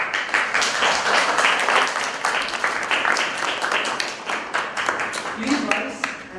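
Audience applause fills a council chamber at the close of a simulated Federal Supreme Council meeting, dense and steady clapping throughout with murmuring voices mixed in.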